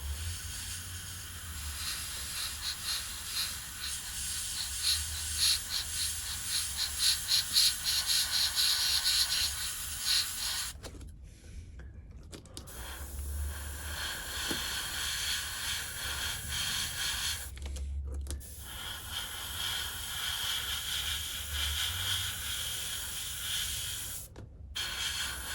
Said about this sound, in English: airbrush with matte black